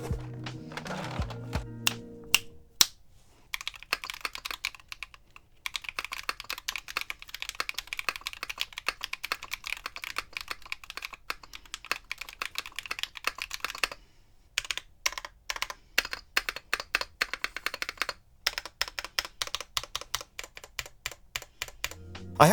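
Typing on long-pole linear switches (Neson Design Camping Life) fitted with Nice PBT Type 6 keycaps from Canon Keys: a steady run of close, crisp keystroke clacks in bursts with brief pauses, no talk.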